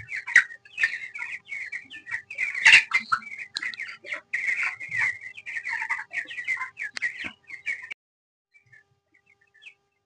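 Chickens on a small poultry farm cluck in quick, busy bursts close by, several birds overlapping, before falling almost silent for the last two seconds.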